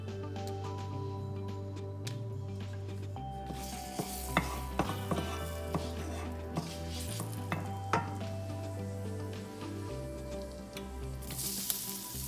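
Cinnamon stick, bay leaf and clove sizzle steadily in a pan of hot oil and butter, a close, continuous crackle with scattered sharp pops and occasional stirring scrapes, with no voices.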